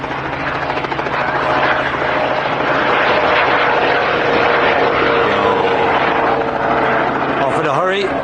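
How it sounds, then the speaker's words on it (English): A police helicopter lifts off from Barton Aerodrome in Manchester during a fly-in event, its rotor and engine a loud, steady throbbing roar up close. Its pitch shifts toward the end as it pulls away. "Look at the police helicopter, how he's departing there."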